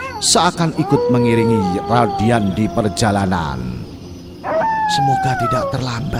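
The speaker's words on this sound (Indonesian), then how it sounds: "suara lolongan anjing yang tiba-tiba saja terdengar menyeramkan" A dog howls in an eerie, drawn-out way, half buried beneath steady narration by someone speaking throughout.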